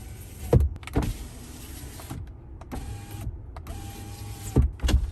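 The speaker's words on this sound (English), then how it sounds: "the front driver and passenger windows are fully automatic, 1 touch down. But to put them back up," The power windows of a 2021 Jeep Gladiator Mojave are raised, giving a steady electric motor whine that runs for a few seconds between sharp clicks and thumps at the start and the end.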